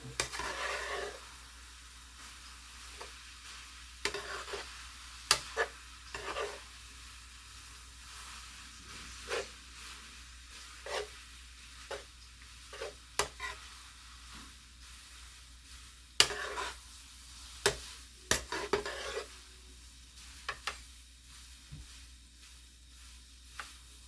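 Pancit being stir-fried with soy sauce and pepper: a faint, steady sizzle with repeated scraping stir strokes throughout, no talking.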